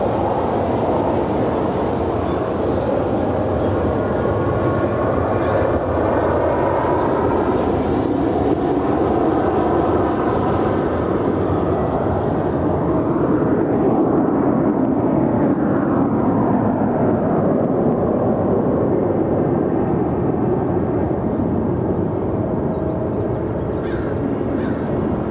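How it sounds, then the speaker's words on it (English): An American Airlines A321 jet rolls down runway 25 right at Los Angeles, a steady engine roar growing and rising in pitch as it passes, with a few crow caws cutting in. "American Airlines Flight 1423 heading to Boston. A321 now rolling down 25 right"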